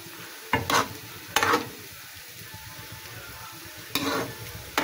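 A spoon stirs taro stolon curry in a pan in a handful of short, separated scraping strokes with light sizzling, close by, between quieter stretches of gentle cooking noise.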